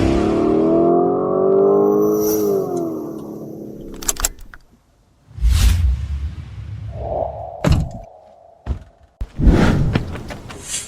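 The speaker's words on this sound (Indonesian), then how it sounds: "Kampus kita terpencil, kok bisa ada mobil sport mewah begini?" A luxury sports car pulls up near a remote campus, its engine note sweeping loudly then settling, followed by thuds and a door closing with scattered movement and clunks.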